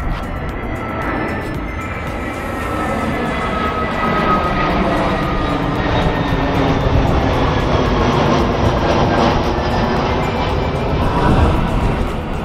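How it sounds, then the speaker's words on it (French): A Lufthansa airliner passes overhead near Frankfurt airport, a steady broad jet roar that slowly swells louder as it approaches, heard outdoors with no talking. "Vous pouvez voir un avion qui passe juste au-dessus là."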